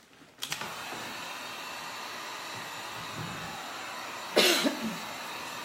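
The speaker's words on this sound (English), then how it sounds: "So let me get my dryer out again. And let's dry this really quickly." A hair dryer blows steadily to dry paint on a wooden sign, a constant close whooshing hum that kicks in and runs throughout, with a brief louder burst and rattle near the end.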